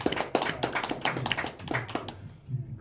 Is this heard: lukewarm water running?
no